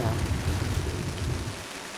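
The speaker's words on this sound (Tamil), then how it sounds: "இப்போ ரியல் வேல்ல மழை பெய்யுது." Real rain falls outside, a steady dense hiss of drops with a low rumbling undertone, close and moderately loud, continuous for the whole moment with no talk.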